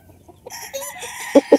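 A gamefowl rooster at a gamefarm gives a short crow nearby, followed by two sharp clucks at the end, loud and close with little else around.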